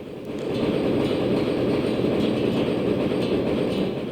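A train in the video game Wild Arms 2 rolls steadily along its rails, a continuous loud low rumble with faint rhythmic clatter that holds at an even level throughout, with no voices.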